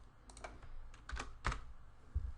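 Fingers typing a few keystrokes on a computer keyboard, soft scattered clicks close by in a quiet room.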